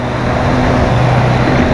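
A motorcycle cruises in fourth gear on a highway ride, its engine a loud, close, steady drone with a humming tone that shifts slightly upward, wrapped in wind rush.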